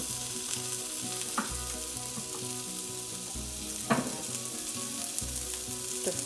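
Prawns pan-frying in butter and garlic give a steady close sizzle throughout, with a few brief clinks or stirring knocks; no voices are heard.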